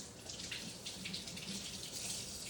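Warm tap water runs in a steady, close, hissing stream as a hand is wetted before stretching and folding sourdough bread dough, with no talking.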